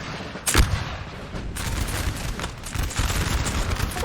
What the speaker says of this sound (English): Nice, some skirmishers getting some shots.